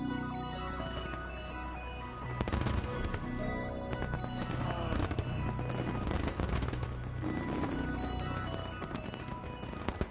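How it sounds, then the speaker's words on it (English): A dense fireworks display bursts over Hong Kong, with continuous crackling, popping and booming explosions that overlap into a loud, unbroken barrage. "is greeted by fireworks displays both great and small"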